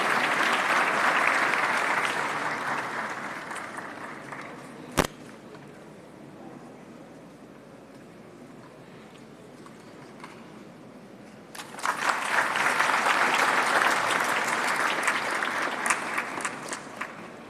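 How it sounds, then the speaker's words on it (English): An audience applauds for an honored guest at a startup festival in India, a broad wash of clapping that fades to a quieter stretch before a second burst swells up loudly again. "A big round of applause for Mr."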